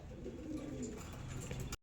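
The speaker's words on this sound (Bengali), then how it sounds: "দুটোই নর পায়রা।" Male Andhra pigeons in a loft coo softly and continuously, a low rolling burble close by with faint higher chirps over it, no voices.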